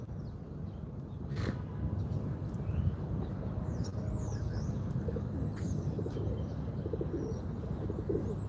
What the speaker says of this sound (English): Pigeons at Istanbul are not afraid of humans,